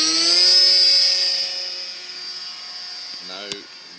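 A Bixler 3 RC foam plane's electric motor runs at takeoff throttle, a steady high whine with layered harmonics that eases slightly after the first second, then a brief voice and a sharp click near the end.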